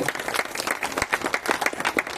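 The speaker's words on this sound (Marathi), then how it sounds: "टाळ्या वाजवायला पाहिजे होते" Applause from a congregation at a Christian church Christmas service: a steady patter of many hands clapping at close range, dense and even throughout with no voices rising above it.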